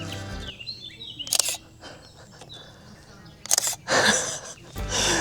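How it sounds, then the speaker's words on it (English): Old Canon Rebel XTi DSLR firing its shutter a few times outdoors on a hike through Portofino, sharp mechanical clacks separated by pauses, with birds chirping faintly in the background. "But the other thing is the sound that the camera makes."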